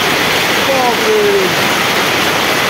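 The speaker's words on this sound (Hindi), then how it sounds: "ये देखिए दोस्तों कितने बड़े बड़े ओले गिर रहे हैं," Large hailstones and heavy rain fall on a mountain road, a loud dense continuous roar of impacts that fills the scene, with a brief faint tonal sound partway through.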